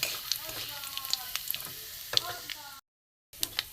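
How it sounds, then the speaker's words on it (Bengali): Panch phoron, a dried chilli and a bay leaf sizzling in hot mustard oil in a kadai, a bright crackling fry with popping spatters that breaks off briefly into silence before resuming. "কড়ার মধ্যে তেল দিয়ে দিচ্ছি সর্ষের তেল এখানে পাঁচ ফোড়ন আছে দিয়ে দেবো একটা শুকনো লঙ্কা দিয়ে দেবো"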